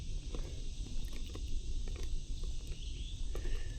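Cicadas high in the trees of a Texas forest, a steady shrill buzzing drone carried at a distance under faint rustling and footsteps, with no speech.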